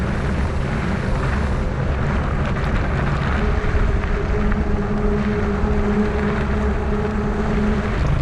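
A rescue helicopter passes over a gravel bike race, its broad rotor and engine roar steady and fairly loud throughout, mixed with outdoor rumble.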